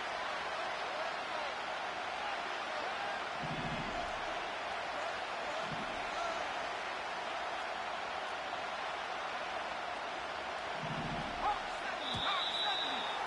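Stadium crowd at an NFL game between the Seahawks and 49ers roars in a constant, deafening wash near the goal line on fourth and goal, with a couple of low thumps and a faint whistle near the end.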